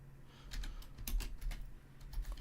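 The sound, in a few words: typing on a computer keyboard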